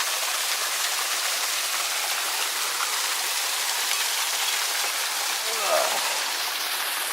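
Creek water rushing through solid rock in Desolation Wilderness, a steady, dense hiss of flowing water heard close and continuous throughout, with a faint brief knock near the end.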